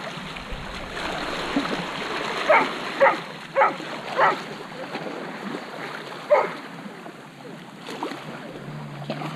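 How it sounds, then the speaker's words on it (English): A dog barks repeatedly outdoors near water at a beach, about five spaced barks at mid distance over a constant wash of wind and water noise. "Barking dog."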